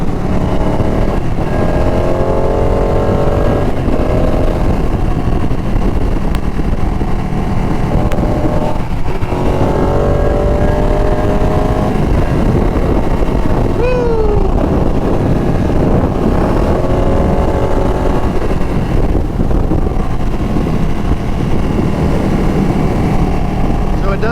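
A 2019 Ducati 959 motorcycle engine revs up and down through the gears, rising and falling pitch sweeps repeating across the ride, loud and continuous with heavy wind noise and a voice talking over it.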